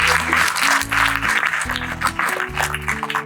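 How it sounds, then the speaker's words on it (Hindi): Loud audience clapping at a Rajasthan Day gathering, a dense burst of applause mixed with a steady low musical tone pulsing underneath for a few seconds. "तो मैं चाहूं कि एक बार जोरदार तालियां"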